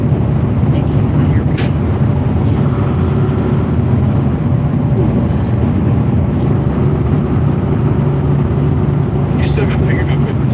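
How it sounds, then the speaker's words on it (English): Continuous low rumble of a truck on the road, steady and fairly loud throughout, with people talking over it. "I can hear truck noise"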